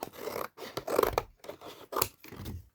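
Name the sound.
scissors cutting paper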